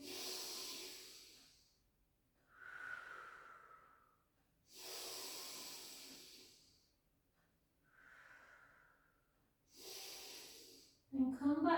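Slow, controlled breaths during a Pilates rehab exercise, with long airy inhales and exhales alternating in a calm rhythm, close and soft, with a short rustle at the end.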